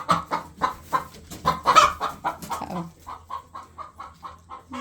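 A nervous hen clucks inside a chicken coop, a quick run of rhythmic, close clucks that slow into evenly spaced single clucks, with a brief spoken exclamation in the middle.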